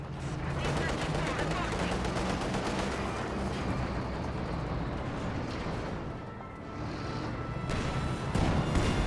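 Tank gunfire and battlefield explosions in Company of Heroes 2, including shots from a Panzer IV hitting a T-34/76, a dense continuous barrage of booms and crackling shots throughout, with a brief lull before resuming.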